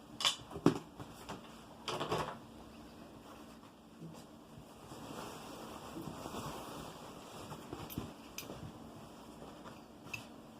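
Scattered crisp snips and clicks of scissors cutting through fabric, a few sharper cuts early on, over a soft background hiss.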